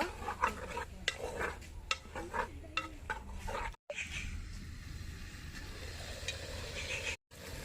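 Chicken with turmeric stirred in a pot for fighter-rooster sukka, a spoon scraping and knocking against the metal in irregular strokes close by, with a soft sizzle underneath and two brief dropouts.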